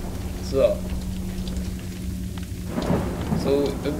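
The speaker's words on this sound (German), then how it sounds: "So im Dunkeln mit dem ganzen Gewitter und so und der unheimlichen Musik." A thunderstorm in the Resident Evil 4 video game rumbles on with steady rain, a low thunder roll building under scattered raindrop patter and brief eerie tonal game sounds.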